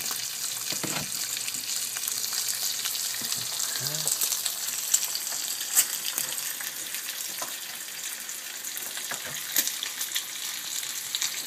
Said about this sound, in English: the bacon cooks actually pretty quick because, you know, it's cut up into smaller pieces